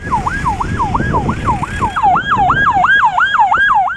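A fire engine siren wails loudly and close by in a rapid, steady, rising-and-falling pattern as it responds to a fire at the Bahri Dağdaş International Agricultural Research Center campus in Konya.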